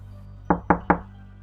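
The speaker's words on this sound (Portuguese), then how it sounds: "Quando a batida veio" Three quick, solid knocks on a door in an even rhythm, close and distinct over a low steady air-conditioner hum in a quiet bedroom at night.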